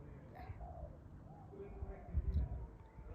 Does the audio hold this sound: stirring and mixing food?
no